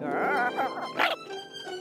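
A small dog yaps and whines in quick, high-pitched bursts, close by, with a squeaky, excited quality and no talking.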